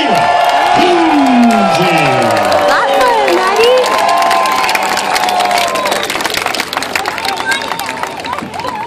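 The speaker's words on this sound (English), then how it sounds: "make some noise for Dana" A fairground crowd cheers, whoops and claps for a high diver on a 70-foot platform, loud and close, with shouted voices and a whistle-like cry rising over scattered applause and talk.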